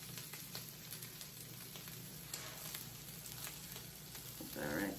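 Birria tacos fry in a hot pan with a steady, close sizzle that holds for the whole stretch and brightens into a louder crackle near the end; no one speaks.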